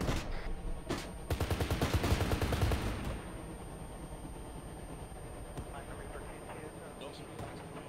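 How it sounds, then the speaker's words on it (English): Enemy gunfire in an ARMA 3 insurgency battle, with a loud rapid burst of automatic shots at the start that fades into scattered distant cracks under a steady background rumble. "Oh, they're shooting."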